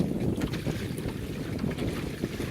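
A strong gust of wind roars against the microphone aboard a double-reefed Welsford Navigator sailboat in high wind, with steady rushing noise, water wash and hull noise filling the whole clip at close, loud level and no voices.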